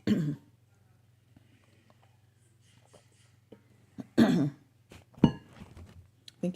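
A woman clears her throat and coughs a few times in a quiet room, with short isolated bursts separated by near silence and a faint low hum beneath.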